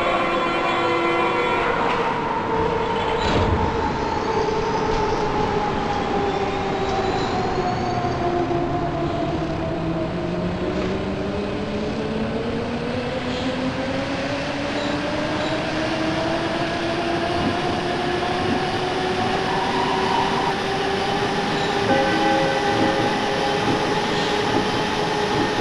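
A Berlin U-Bahn U2 subway train pulls out of Olympiastadion station, its motor whine rising and sliding in pitch over a steady, loud rumble of wheels and carriage noise that lasts throughout.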